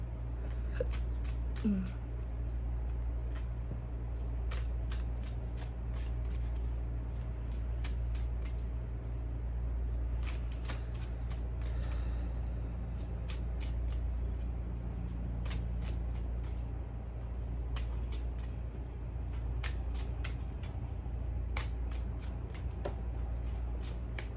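Slightly sticky playing cards being shuffled in a humid room, a series of quick crisp riffles and taps in bursts over a low steady hum, close by, with a brief voice early on.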